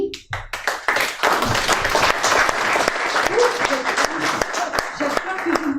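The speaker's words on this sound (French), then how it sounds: "merci pour vos applaudissements, chère assistance" An audience applauds at the end of a philosophy lecture, a dense wash of clapping hands lasting several seconds, with a voice speaking over it.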